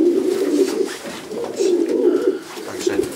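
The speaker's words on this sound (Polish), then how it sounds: "Pokażmy tego gołębia może, to widzimy, jest taki niebieski białolotny" A blue white-flighted racing pigeon in a Polish loft coos in repeated low, throaty rolling phrases, close and fairly loud, with a bit of faint background noise.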